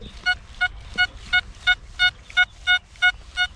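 XP Deus metal detector in its Coin Fast program gives repeated bright target tones, about ten short electronic beeps in a steady rhythm over faint low background rumble, close and clear.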